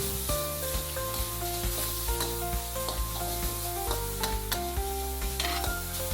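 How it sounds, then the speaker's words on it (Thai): Minced pork sizzles and crackles steadily in a hot pan with fried garlic, with a metal spatula scraping and tapping as it is stirred, close up. "แล้วก็ใส่หมูสับลงไปครับ ลวนต่อให้หมูสับสุกเลยครับ"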